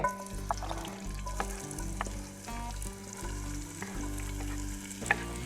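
Onions fry in hot olive oil in a pot at an outdoor hunting camp in Africa, giving a steady close sizzle with occasional stirring clinks over a low background hum.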